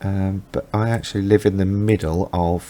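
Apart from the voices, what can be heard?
No everyday noises stand out.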